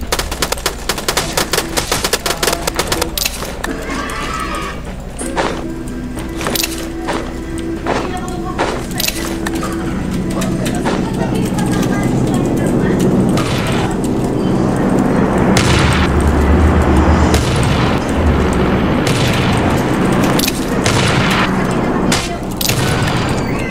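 Video game gunfire rattles in rapid, overlapping bursts and booms with no pause, loud and close, fading into a continuous rumbling din.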